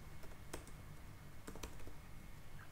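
Keys tapping on a computer keyboard during an Angular coding session: a few scattered, faint clicks over a quiet room hum, with no voices.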